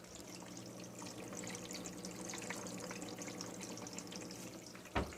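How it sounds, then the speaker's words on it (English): Quiet, continuous gurgling and trickling water from a Marineland HOT Magnum 250 canister filter whose media needs changing, with a faint bubbly crackle throughout and a brief knock near the end. "If you can hear that, there's like water moving or whatever."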